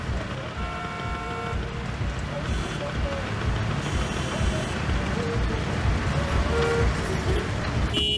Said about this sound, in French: Mais ça va, toi, pourquoi tu klaxonnes?